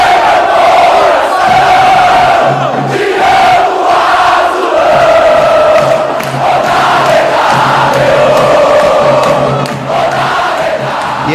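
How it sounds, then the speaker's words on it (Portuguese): CSA football supporters chant in unison before a match against Vasco da Gama. The crowd is loud and close, with a rhythmic, sustained mass of voices, repeating phrases and a thick roar underneath. "solta o cântico da torcida para dar aquela estigada"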